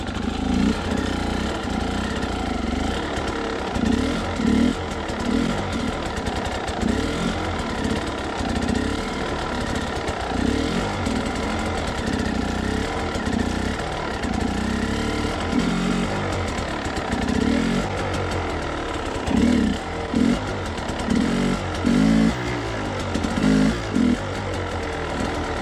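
Enduro dirt bike engine idling and blipping at low speed during uphill balance practice, a steady close putter with frequent small throttle and clutch surges and no talk.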